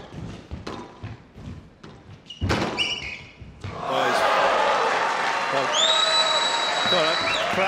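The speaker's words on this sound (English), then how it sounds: "Got a crowd roaring against the slight miss there." A squash match crowd bursts into a loud, sustained roar and applause after a few sharp thuds of play, the cheering swelling close and full and holding steady to the end.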